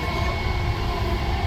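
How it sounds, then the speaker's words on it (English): The JFK Airport AirTrain people mover rides on its rails as it turns, giving a steady, close rumble with a sustained whine and no talking. "the AirTrain is turning left"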